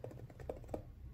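Mechanical keyboard keys click in a quick, even run of presses on a budget 60% keyboard, crisp and close with no voices.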